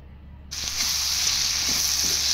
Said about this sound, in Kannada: ನೀರಲ್ಲಿ ಬೇಯಿದ ತಕ್ಷಣ ಈ ಥರ ಎಣ್ಣೆಲ್ಲೇ ಬೇಯಬೇಕು.